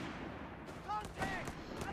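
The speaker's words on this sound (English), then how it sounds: "Panzer Grenadiers and Panzer Pioneer, unloading a lot of lead and a bit of flamethrower fuel on them" Gunfire from Panzer Grenadiers and Panzer Pioneers in the strategy game Company of Heroes 3 crackles faintly as a few scattered bursts and distant booms, set low beneath a commentator's voice.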